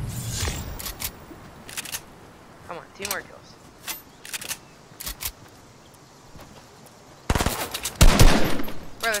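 Gunfire from the video game Fortnite: scattered single shots pop at irregular intervals, then a loud, dense volley near the end, with a voice talking underneath.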